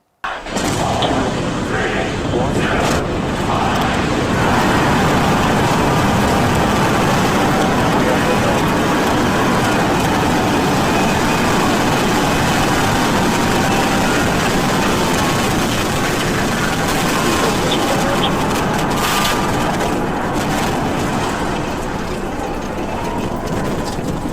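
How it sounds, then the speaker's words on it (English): A SpaceX Starship rocket launch on its third test flight rumbles with a dense, continuous roar that holds steady and loud for over twenty seconds, with faint crackling bursts layered on top. "Starship cleared the pad and proceeded towards space."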